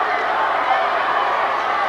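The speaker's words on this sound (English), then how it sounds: "this crowd just exploded" Crowd at a 2002 high school basketball area championship game cheering loudly in a gym, a dense, sustained roar with no breaks that fills the whole moment.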